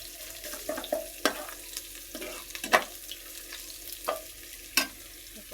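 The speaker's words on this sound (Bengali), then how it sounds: "কাঁচামরিচ পেঁয়াজ এখানে দিয়ে দিলাম, দিয়ে ভেজে নেব এখন" Green chilies and onions fry in a pan, giving a low sizzle broken by several sharp clinks and scrapes of stirring at irregular intervals, with no voices.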